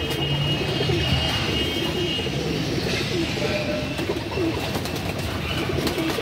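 Old-generation Madrasi pigeons, among them a female, coo softly and repeatedly against a steady, dense background hum.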